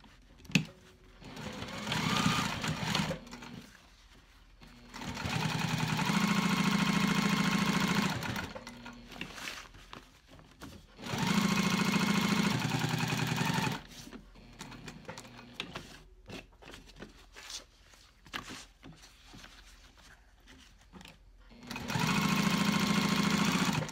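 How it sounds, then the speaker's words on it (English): A sewing machine stitches around a backpack pocket in three sustained whirring runs of a few seconds each. Quieter handling noises fill the pauses, with no talking. "Now I'm going to stitch all the way around this pocket to close it off."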